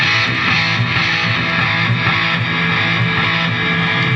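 Electric guitar through a Randall amp set to flanger reverb with delay, a continuous distorted tone with a swirling, sweeping shimmer and echo tails, held at steady volume and heard alone.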